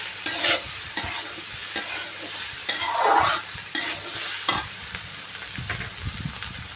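Goat tripe curry is stirred in a pan, with repeated scraping strokes of a spoon against the metal over a constant close sizzle and no voice present.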